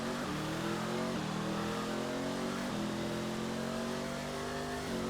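Volkswagen Golf MK8 GTI mod car in GTA 5 accelerating hard at stock speeds, a steady engine drone climbing in pitch through several gear shifts, loud and continuous with no talking.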